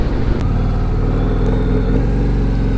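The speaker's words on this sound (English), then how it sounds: "This bike really moves." Harley-Davidson CVO motorcycle from 2023 running under way, its engine a loud, steady low rumble with firm harmonic throb that holds constant throughout, no voices.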